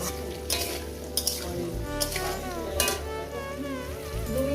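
Vegetables frying in a pan with turmeric while being stirred, a steady sizzle with scraping clicks of the spoon against the pan, fairly close, with faint background music-like tones and no talking.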